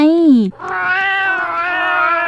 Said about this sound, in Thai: แมวเราเริ่มร้องแล้ว